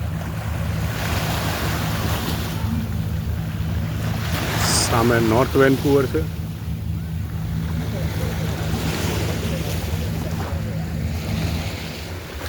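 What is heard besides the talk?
sea waves crashing against sea wall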